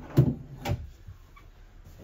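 RV bathroom storage drawers slide and bump twice in quick succession, two close thuds with short scraping, then quiet room tone.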